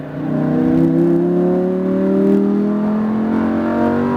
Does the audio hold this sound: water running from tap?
no